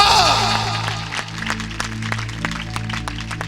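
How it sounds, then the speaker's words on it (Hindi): A church congregation at a convention in Lohian Khas, Jalandhar, claps its hands, a light patter of scattered, uneven claps in a room over a steady background drone, fairly faint and without speech. "कम ऑन, जोरदार ताली बजाकर परमेश्वर का धन्यवाद"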